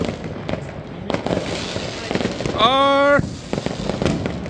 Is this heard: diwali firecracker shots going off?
yes